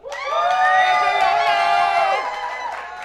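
A live audience cheers and whoops for Angela Maloney: a loud, sustained swell of voices shouting together that holds for about two seconds, then fades into a lighter murmur.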